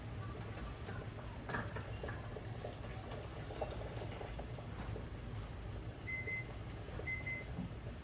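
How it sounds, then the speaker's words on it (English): A kitchen timer gives two short, faint beeps near the end. It sounds over the low, steady bubbling of a canning pot on a burner while watermelon jelly is being made. "That's our timer."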